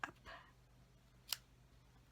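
A single crisp scissor snip cuts ribbon trimmed on a designer-paper gift bag, one quiet, sharp cut in an otherwise hushed room.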